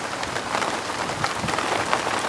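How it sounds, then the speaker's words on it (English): Heavy rain pours down steadily outdoors, a dense, continuous hiss of drops on surfaces with no breaks, close and fairly loud throughout. "Raining, and it's raining pretty good"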